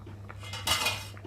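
A lid set down over a pot of Bengali fish curry with pangas and tengra fish, giving a brief metallic clatter of cookware in a quiet kitchen with no talking.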